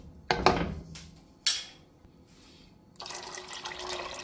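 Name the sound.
water being poured into a pot of soaked peas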